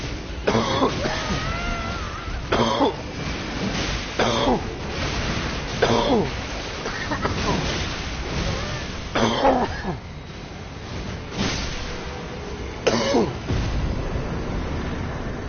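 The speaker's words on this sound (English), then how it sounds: "I apologize for coughing up like a coughing up the wazoo on that fight." Repeated bursts of coughing and throat clearing, about eight of them at irregular intervals, close and loud, during late-night play of the video game Elden Ring.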